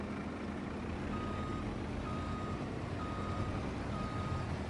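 Reversing beeps from a truck in Farming Simulator 25, a steady series of evenly spaced tones repeating over a constant low engine rumble, fairly close and clear with no talking.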